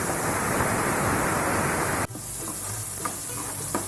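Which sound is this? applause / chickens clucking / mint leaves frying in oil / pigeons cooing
mint leaves frying in oil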